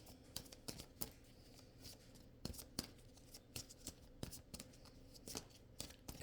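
Soft, crisp riffling and slapping of tarot cards being shuffled, in a quick irregular rhythm of taps and flutters, close and quiet.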